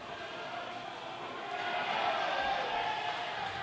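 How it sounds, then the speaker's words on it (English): Fans at a boxing match in Zambia, a broad crowd roar that swells and holds steady, distant and continuous with no clear single voices. "And the fans are still cheering on."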